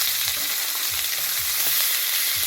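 Mackerel fillets frying skin-side down in a hot pan, giving a loud, steady crackling sizzle that fills the whole moment, close up, with faint low knocks from the pan underneath and no speech.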